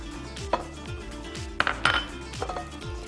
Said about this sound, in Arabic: ونقلب كل الحاجات دي مع بعض